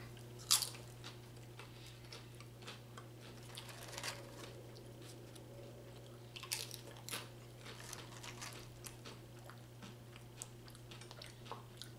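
Crunchy tortilla chips of Taco Bell Nachos BellGrande, topped with steak, cheddar cheese, sour cream and pico de gallo, being bitten and chewed up close in scattered soft crunches over a steady low hum, with no talking.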